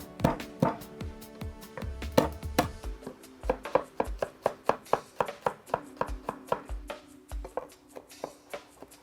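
Garlic being chopped with a knife on a cutting board, a rapid run of crisp, close knocks in a steady rhythm, some strokes heavier than others, with no talk over it.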